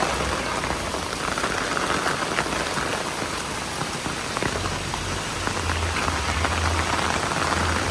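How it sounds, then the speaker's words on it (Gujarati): Heavy rain pours down in a strong, steady roar of drops drumming on surfaces, a loud dense wash that never lets up, with water running and no one talking. "બહુ જોરદાર વરસાદ આવે"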